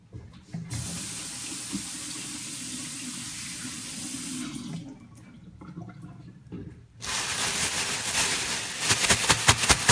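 Running tap water pours steadily into a kitchen sink while chicken pieces are rinsed for frying, a continuous close splashing that dips briefly, then returns louder and busier with irregular spatters.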